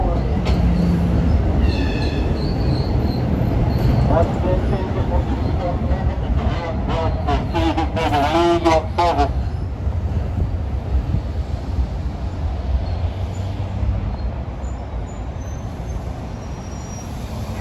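NJ Transit eastbound train arriving at Hoboken, a loud continuous rumble and wind buffeting with squealing wheel and brake tones in the middle, steady throughout.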